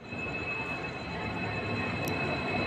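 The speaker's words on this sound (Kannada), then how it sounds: "ಬಂತು ನೋಡಿ ನಮ್ಮ ಟ್ರೈನ್." A train hauled by a Hubli-based WDP-4D diesel locomotive arrives at a platform at Davanagere, giving a low, steady rumble with a faint high whine and one brief squeal.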